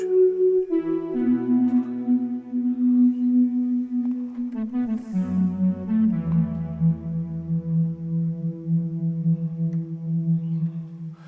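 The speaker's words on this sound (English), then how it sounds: "And this is just the default reverb patch." Sustained tones from a Pigments synthesizer with its default reverb patch glide slowly downward, notes blurring into a long, spacious reverberant wash that lingers and fades.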